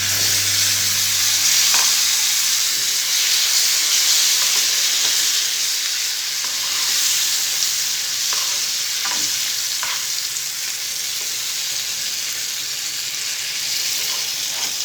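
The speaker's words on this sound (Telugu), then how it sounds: "తాలింపు ఫ్రై అయిన తర్వాత మనం ముందుగా నూరుకున్న పచ్చడి వేసుకోవాలి." Ground tomato and curry leaf chutney hits a hot tempering of onion, dried and green chillies and curry leaves, giving a loud, steady sizzle and hiss with stirring scrapes and no voices.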